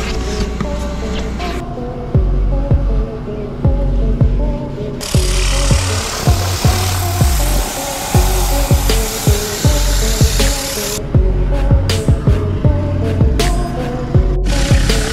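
A vacuum cleaner runs loud and close inside a car during a mobile detailing maintenance wash, with a steady broadband roar from about five to eleven seconds and repeated knocks and bumps of the nozzle against the interior throughout.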